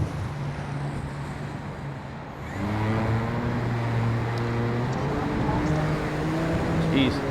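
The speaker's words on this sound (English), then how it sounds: "Got a ton of wind right now." Strong gusting wind buffets the microphone at an RC gyro flight test field as a model helicopter hums nearby, the wind roar swelling louder partway through.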